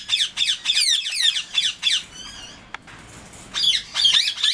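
Double factored violet budgerigar giving a rapid string of loud, harsh squawks close by, a brief pause with softer chatter and a click, then more squawks.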